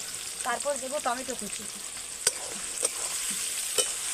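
Chopped onion fries in a pan after ginger and garlic, a constant soft sizzle with a few sharp stirring clicks, while someone talks over the first part.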